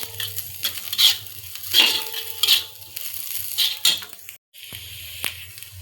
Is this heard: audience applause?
no